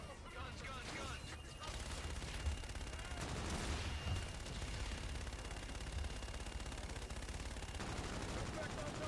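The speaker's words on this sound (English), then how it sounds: "Roger, inbound for gun run. Guns, guns, guns." Aircraft gun run in a video game, a rough sustained burst of rapid gunfire and rumbling blasts under radio-style voices, dense and loud throughout.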